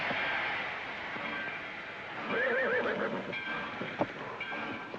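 A horse whinnies once with a wavering, close cry beside a train being boarded, over a steady rumbling train background, with a sharp knock shortly after.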